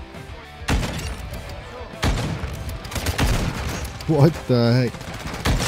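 Rapid automatic bursts from an autofire weapon in Warzone, several loud close volleys separated by short pauses, with a player speaking between and over them.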